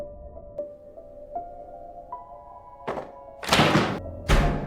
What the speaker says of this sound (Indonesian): ada suara seperti orang yang menggedor pintu dari luar